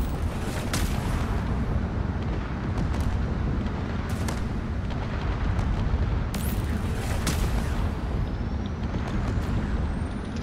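Combat drones firing all their guns in a video game battle: a dense, constant roaring barrage with sharp cracks and thuds bursting through, loud and without talk.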